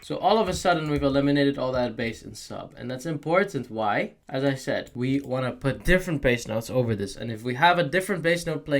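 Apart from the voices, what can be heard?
None of the usual background noises is heard.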